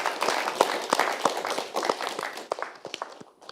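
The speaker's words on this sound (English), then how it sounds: "Can we have a massive round of applause for this amazing instrument and for Cheryl Hui?" Scattered hand clapping from a modest audience at a music lab event, individual claps audible and uneven, thinning out toward the end.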